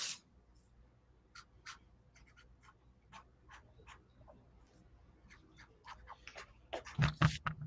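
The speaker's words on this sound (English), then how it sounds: "I'm going to start drawing on gray paper every time I do this from now on" A pencil drawing on gray paper makes scattered, quick scratchy strokes at low volume, with a denser, louder flurry of scribbling near the end.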